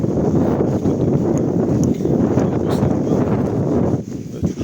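Strong wind roars across an exposed slope of Helgafell mountain in extreme weather, a dense, continuous buffeting that batters the microphone throughout, easing briefly near the end, with occasional faint voices.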